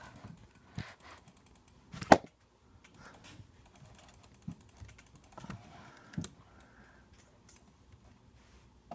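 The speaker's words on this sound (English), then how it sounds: "Sorry, you can hear my clicking." A computer keyboard and mouse are clicked during a Minecraft factions game, with quiet, irregular bursts of key taps and clicks, one sharper cluster standing out, close to the microphone.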